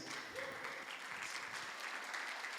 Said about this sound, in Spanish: Un aplauso para mi esposa.